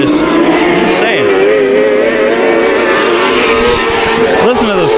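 At Bakersfield Speedway a race car screams with a high, thin engine note, steady and loud, with brief passing surges near the start and end while commentary carries on underneath.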